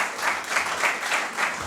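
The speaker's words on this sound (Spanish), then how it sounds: "tenemos que dar un aplauso porque esto es maravilloso que tú hayas ganado" Audience applause at a museum of contemporary art event in Palencia, honoring a prize winner: steady, dense clapping from a crowd, moderately loud and sustained with gentle swells, no voices over it.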